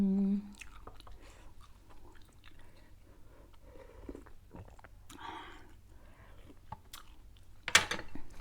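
Close chewing of springy Vietnamese pork sausage (mu yo) in a mouth, soft wet squishing and biting sounds with brief murmured voice, a louder smack near the end.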